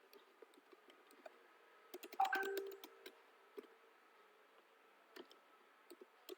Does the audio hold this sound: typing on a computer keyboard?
yes